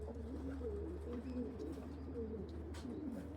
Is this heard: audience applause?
no